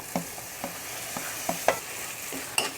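Tomatoes fried on high heat in a pan, a soft continuous sizzle broken by short scraping stir strokes at irregular intervals, close and moderately quiet, no voices.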